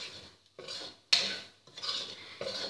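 Grated coconut is dry-roasted and stirred with a spatula in a large, heavy-bottomed pan, giving repeated scraping, rustling strokes in short bursts separated by pauses, close and fairly quiet.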